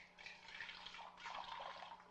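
Liquid poured onto a person's hand in a gross-out comedy film, a steady splashing, trickling pour lasting a couple of seconds with a brief break midway, fairly faint and close, no voices.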